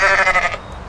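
A goat in the game Goat Simulator lets out one loud, close, wavering bleat lasting about half a second, fading into quiet room background.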